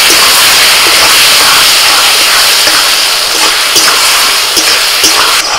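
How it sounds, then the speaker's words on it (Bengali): Vegetables stir-fried with red chili sauce, soy sauce and vinegar in a pan, a loud continuous hiss and sizzle with scattered soft clicks of stirring, close and alone. "সস দিয়ে সব সবজিগুলোকে একটুখানি আমি নাড়াচাড়া করে নিয়ে"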